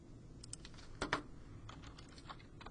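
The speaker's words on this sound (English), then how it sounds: "So we're going to type this in." Quick bursts of computer keyboard typing as a polynomial is entered, a few soft scattered keystrokes followed by a louder cluster near the middle, then more light taps.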